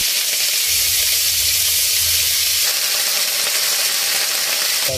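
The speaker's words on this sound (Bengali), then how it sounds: "এবার বাঁধাকপিটা দিয়ে দিলাম।" Cabbage hitting hot oil with a green chili in a wok, a loud, continuous sizzle and hiss that stays close and steady throughout, no talking.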